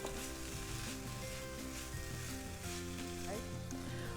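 Shishito peppers stirred in a frying pan while making seafood fried rice, giving a faint, steady sizzle with light stirring beneath louder background music.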